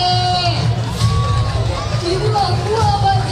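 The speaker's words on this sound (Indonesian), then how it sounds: "Tepuk tangan semuanya." A festival crowd at Sabang Marine Festival cheers and shouts, a loud, continuous mass of voices with scattered higher calls and whistles, with little distinct clapping audible.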